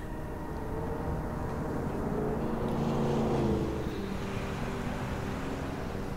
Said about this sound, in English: There's a lot of driving going on right now.